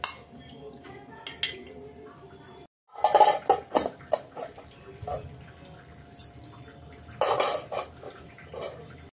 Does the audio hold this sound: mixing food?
yes